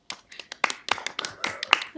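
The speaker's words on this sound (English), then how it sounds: "first row of people start clapping your hands" An audience's first row claps in a lecture room, uneven sharp handclaps scattered close and distinct, with some voices among them.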